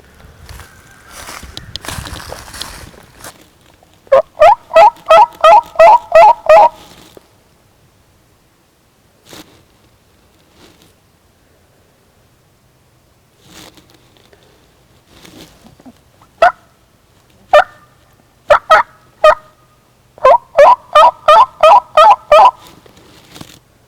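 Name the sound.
wild turkey gobbling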